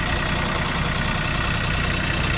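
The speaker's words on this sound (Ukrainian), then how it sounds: "Трактор працює ідеально." A 65-horsepower Kubota tractor fitted with a large rotary tiller runs steadily nearby, a constant loud rumbling drone with an even low throb and no pauses.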